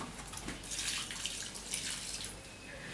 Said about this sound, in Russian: Что, сейчас заливаешь воду прямо,